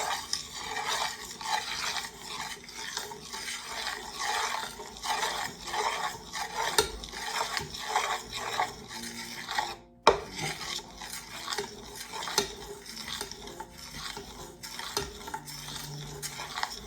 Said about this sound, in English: Now we are going to stir it.